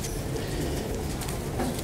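Teddy pigeons, a breeding pair in a loft, cooing with low soft calls over a steady bed of background noise, close and continuous throughout.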